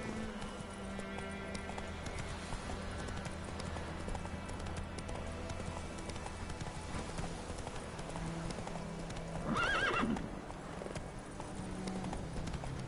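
Hoofbeats of Roach, Geralt's horse in The Witcher 3 game, clip-clop steadily over a constant musical and ambient background, with a short louder whinny near the end.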